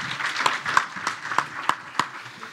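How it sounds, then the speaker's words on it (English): Audience applause closing a lightning talk session at a conference, a short spell of scattered, moderately loud clapping with several sharper individual claps standing out, no speech. "Let's give these guys a round of applause."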